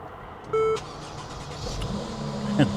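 A fire-damaged Lamborghini Gallardo LP560-4 cranks and starts, with a short electronic beep near the start before the engine settles into a steady idle, followed by a louder rev near the end.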